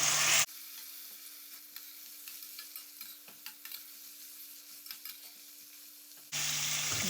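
Chopped tomatoes sizzle and crackle with onions in a hot pan at a low, steady level, bracketed by louder bursts of noise at the start and end.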